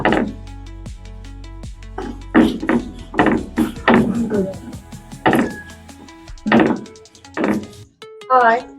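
Spices ground hard by hand on a grinding stone in a home kitchen, a run of heavy rhythmic thuds and scrapes up close, with women chatting over and between the strokes.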